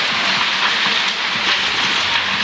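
Steady rain falls in Minca, Colombia, as a dense, even hiss with no gaps, heard close and fairly loud.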